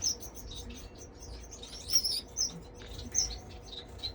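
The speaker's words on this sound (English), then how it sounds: "You got the green finch. You got some European goldfinches up there, and some canaries as well." Small caged European goldfinches, a greenfinch and canaries chirp and twitter in an indoor bird room, with scattered bright high tweets over a low background hum, no talking.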